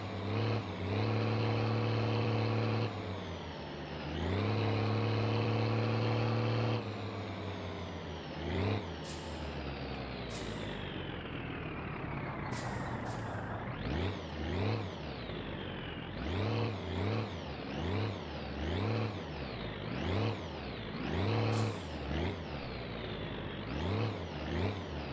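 Furniture moving truck in the game My Winter Car: a loud engine revs up through long rising gear pulls, then cuts out. After a hiss of air brakes, the engine climbs and drops again in repeated surges, with no talking.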